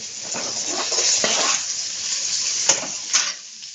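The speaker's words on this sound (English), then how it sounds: "the green chili is almost getting fried." Green chilies and vegetables frying in a pan for Hakka noodles, a bright hissing sizzle close up with a couple of sharp clacks from a utensil partway through.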